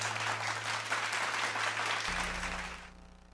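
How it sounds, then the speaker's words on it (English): A church audience applauds a pastor with a steady wash of clapping that holds for a couple of seconds, then fades out quickly, leaving a low hum behind. "Let's give a warm round of applause for Pastor Mike"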